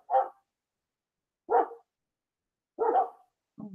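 A neighbor's dogs bark in short separate bursts, four barks spaced about a second and a half apart, moderately distant and alone against silence.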